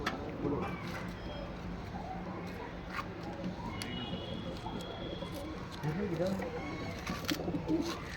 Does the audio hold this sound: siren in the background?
no